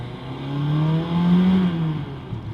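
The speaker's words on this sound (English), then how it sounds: "Let's do a little pull through the gears." A Lancia Montecarlo engine with a single Weber carburettor pulls hard through the gears, its rough, throaty note climbing and swelling in pitch before easing off, heard close and steady with no talking.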